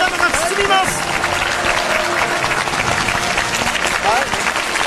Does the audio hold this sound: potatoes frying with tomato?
no